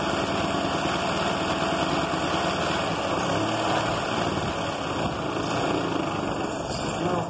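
A sewing machine stitches fabric with a steady, close, continuous mechanical whir, loud and even throughout without pauses or speech.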